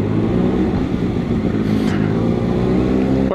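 Exhaust of a 2013 Kawasaki ZX6R 636 sport motorcycle, loud and close, with a steady engine drone and a brief crackling pop partway through, no talking.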